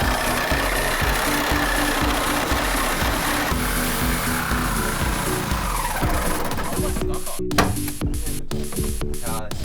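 A power blade slicing into the body panels of a Hyundai car being cut into a convertible, a loud steady grinding screech with spray-like hiss that breaks into choppy bursts near the end.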